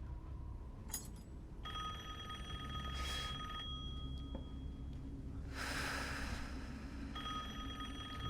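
A telephone in the video game Resident Evil Village rings quietly and steadily in a repeating electronic pattern with brief gaps, under a low background hum and faint breathing-like noise.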